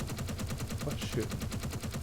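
Rapid automatic weapon fire in the Space Engineers video game, a fast regular stream of sharp shots repeating at an even rhythm, moderately loud, with no talking.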